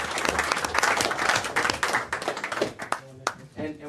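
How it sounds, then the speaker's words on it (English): A council meeting crowd gives a round of applause, steady dense clapping for about three seconds that thins into scattered claps near the end, with some talk mixed in. "Give him a round of applause"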